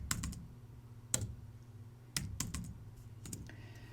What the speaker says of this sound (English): I simply just need to type 500 in.